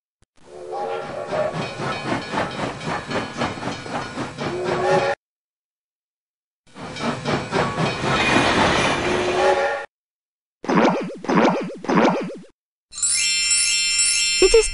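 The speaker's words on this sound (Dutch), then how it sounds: "Hier komt de trein." A cartoon train, the Alphabet Express, pulls in within the 1998 Windows children's game Robbie Konijn – Dreumes: Het Magische Verhalenboek, with steady chugging rhythm, jingling bells and a bright horn toots in loud bursts separated by short silences.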